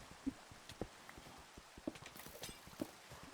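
Rain falls on the moon in the Objectif Lune video game remake, heard as faint, scattered patters with a few soft thuds spread over a few seconds.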